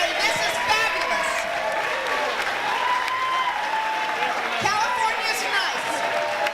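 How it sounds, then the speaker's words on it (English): Sustained applause from a large crowd at an awards ceremony, dense steady clapping with scattered cheers and voices mixed in, continuing throughout. "Give yourselves an applause."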